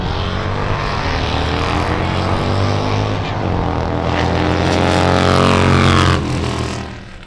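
Loud motorcycle engines, one a Harley, roar at full throttle in a drag race, a continuous high-revving drone rising and swelling before cutting off near the end.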